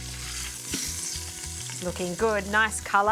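Pork frying and sizzling in a multi-cooker as it is turned, a steady crackle with stirring and scraping near the pan, while a person speaks over it toward the end.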